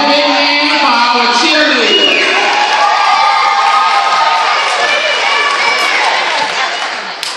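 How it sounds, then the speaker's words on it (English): A basketball crowd at halftime cheers and shouts loudly and steadily for both teams, a dense roar of voices with children's yells mixed in throughout. "Let's give both teams a round of applause."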